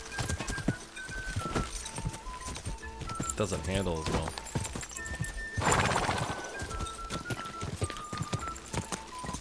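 Horse hooves clip-clopping at a steady gallop in the medieval video game Kingdom Come Deliverance 2, with a horse neighing once midway, all under ongoing game music and a person talking.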